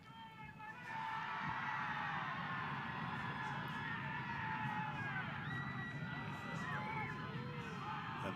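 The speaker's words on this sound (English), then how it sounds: "they are making some noise here" Small crowd at a UPSL men's soccer match between Bowling Green FC and Southern Indiana FC makes steady cheering and shouting noise, with scattered whoops and voices running under the whole stretch after a quieter opening second.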